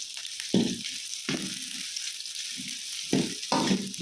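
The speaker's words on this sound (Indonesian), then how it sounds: "Kemudian kita masukkan bawang putih yang sudah kita geprok ya, teman-teman." Crushed garlic sizzling in a pan over lowered heat for stir-fried broccoli, a steady close hiss with a few brief louder spatters as it is stirred, no talking.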